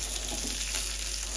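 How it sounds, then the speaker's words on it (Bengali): Sea fish sizzles in frying oil, a steady hissing crackle filling a brief moment with no voices. "ভাজা মাছটা উল্টে তুলে নিব আমরা"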